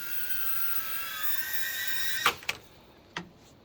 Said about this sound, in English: the one button takeoff and landing also does the landing